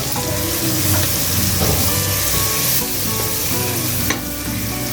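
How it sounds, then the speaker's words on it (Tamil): Chicken biryani masala sizzles loudly in a pan while being stirred, a dense steady frying hiss with scraping stir sounds throughout, close up with no talking. "நல்லா கிண்டி விட்டுக்கலாம்."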